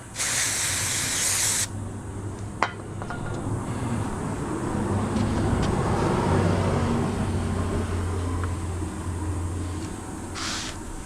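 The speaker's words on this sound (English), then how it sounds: "PJ1 contact cleaner." PJ1 contact cleaner sprays onto mountain bike brake rotors in short, loud hissing bursts: one long blast at the start, a sharp click, then a steady rushing background and a brief final spurt.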